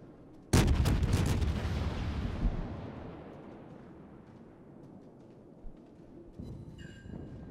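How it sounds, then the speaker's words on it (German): Naval gunfire in the World of Warships video game: one sudden loud booming salvo that rolls into a long rumbling decay, followed by a few fainter thuds. "Da kamen die Schüsse von der Amagi einfach zu spät."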